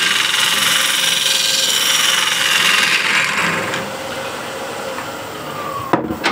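A spear point scraper cuts a spinning wooden tenon on a lathe, giving a continuous rough, hissing scrape under the lathe's hum that eases off midway, followed by a couple of sharp clicks near the end.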